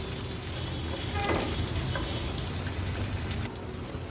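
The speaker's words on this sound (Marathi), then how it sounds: "व्यवस्थित काजू मनुके पण आपण असे परतून घ्यायचे आहेत" Cashews and raisins fry in hot oil for a restaurant-style aloo mutter and white pulao, giving a steady, dense sizzle with faint crackles throughout, close and continuous with no voices.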